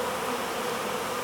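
A honey bee swarm buzzes around a hive in a dense, steady drone of thousands of bees, close and continuous with no voices.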